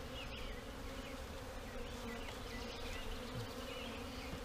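A dense, steady buzzing of a honey bee swarm being shaken into a swarm trap, continuous and close, with no voices.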